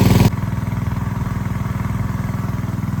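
A small engine pumping water out of farm fields runs close by, chugging with rapid, even pulses after a brief louder burst at the very start.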